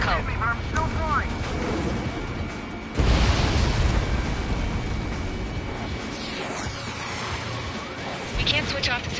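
Ace Combat aerial combat with a loud low boom that bursts in partway through over jet engine roar and rumbling, then slowly fades back into continuous flight noise, with radio chatter from voices in the game.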